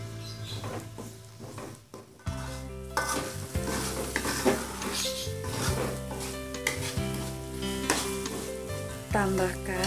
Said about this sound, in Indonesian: Tumis bumbu, sereh, daun salam,